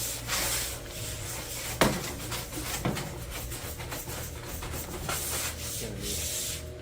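Steady rough scrubbing against a hard surface, continuous broadband rubbing strokes with a couple of sharper knocks, close and fairly loud, no talk.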